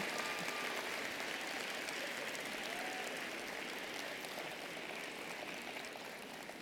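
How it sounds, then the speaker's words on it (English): Audience at a university social work spring commencement ceremony applauding, a dense, steady wash of clapping from a large crowd heard from a distance, lasting throughout. "please give a round of applause for all those people sitting here today who helped you"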